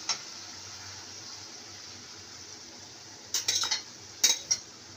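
Fried papaya is stirred together with shrimp in a pan: a quiet background hiss, then a short burst of metal spoon scrapes and clinks against the pan, and another clatter shortly after.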